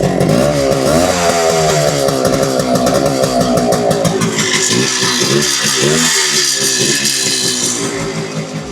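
A motorcycle engine revs loudly and steadily up close, its rough throbbing rising and falling in pitch for several seconds with no voices.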